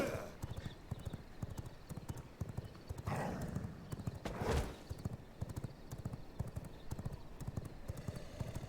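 Steady clip-clop of horse hooves from a game's sound button, repeating in an even trot throughout at moderate loudness, with a brief whinny-like swell partway through.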